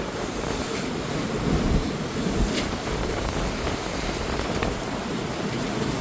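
Roaring wind and crashing surf from Storm Amy fill the scene at Blackpool's Central Pier, a dense, continuous stormy wash with gusts buffeting the microphone and no voices.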